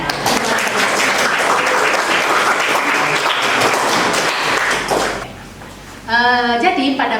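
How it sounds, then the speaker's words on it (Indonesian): A classroom of students claps for the day's cleaning-duty pupils, a brisk burst of many hands lasting about five seconds before it cuts off. A teacher's voice then speaks clearly in the quiet room. "Kita berikan tepuk tangan bagi yang piket pada hari ini ya"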